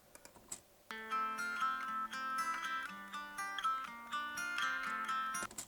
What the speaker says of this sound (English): kind of like an old-timey radio sound, like a low fidelity thing